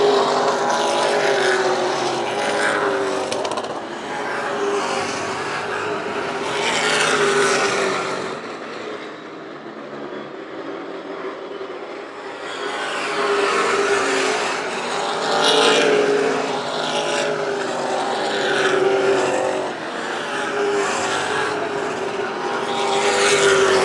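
Race cars in a WESCAR event roar around the Hythe Motor Speedway oval, engines rising and falling in loud sustained waves as the pack circles, with a brief lull midway before the roar builds again.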